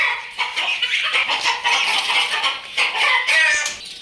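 A desi hen clucks and squawks loudly and continuously at close range, agitated bursts of clucking with a rising squeal near the end.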